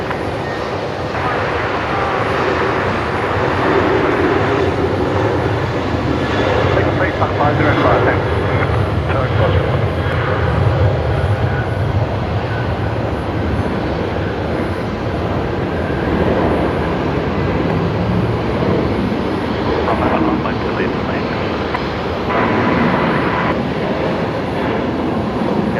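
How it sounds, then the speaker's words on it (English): Qantas flight 125 to Auckland rolls along at Brisbane Airport at night, its jet engines a broad continuous roar that swells and fades slightly throughout, with people talking over it. "Qantas 125 rolling there on the Mac cam, heading off to Auckland tonight"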